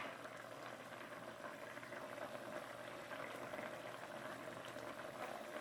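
Steady bubbling and simmering of broth in a pot, continuous and even throughout, with faint kitchen background noise.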